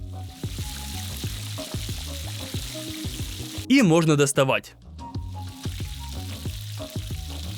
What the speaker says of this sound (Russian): И уже подмороженные дольки гигантского картофеля можно отправлять во фритюр.